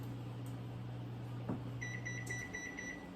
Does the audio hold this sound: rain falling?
no